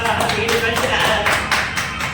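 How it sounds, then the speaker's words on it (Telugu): Everyone clapping at a BJP leader's birthday celebration in Mangalagiri, a short burst of close applause with sharp individual claps, mixed with voices talking over it. "బియ్యంగా అందరూ చప్పట్లు పెట్టండి"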